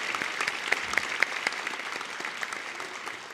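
A church congregation applauding children after a performance at an early-morning revival service, a steady wash of clapping with a few sharper individual claps, moderately loud throughout.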